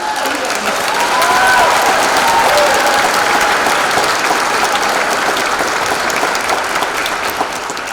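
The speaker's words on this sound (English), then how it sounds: "give a round of applause to our wonderful staff" Sustained applause from a crowd at a high school graduation ceremony honoring the school staff, a dense, even wash of clapping that holds steady throughout, with faint voices mixed in early.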